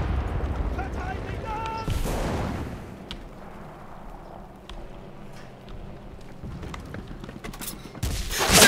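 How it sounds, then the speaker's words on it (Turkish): Bombs go off in Enlisted, heard as heavy booms and crackling blasts at varying distances. The loudest hit at the start and end, with scattered gunfire in between. "Bir yerlerde sürekli bombalar patlıyor."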